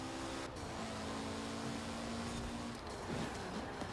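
Mitsubishi Lancer Evolution IX, four-wheel drive, driven in Forza Horizon 4, its engine droning steadily at mid revs throughout with a brief dip and some tire noise near the end, no talk.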